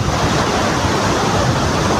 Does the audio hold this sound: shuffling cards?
no